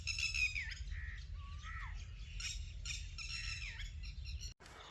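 Young birds in a Pakistani village squawk and chirp in close, repeated harsh calls with rising and falling tones, fairly loud over a low background rumble, cutting off abruptly near the end.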